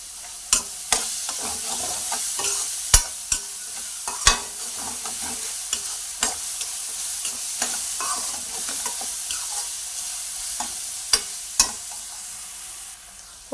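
Onions with a little salt fry in hot oil in a pan, a steady close sizzle punctuated by sharp spatula taps and stirs at irregular intervals, with no one speaking.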